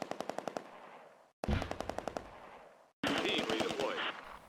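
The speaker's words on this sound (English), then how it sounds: "They are facing machine gun fire from an MG42 and a heavy machine gun squad." MG42 and heavy machine gun bursts in the wartime strategy game Close Combat crackle in three rapid rattling volleys separated by short gaps, with a brief spoken line over the fire.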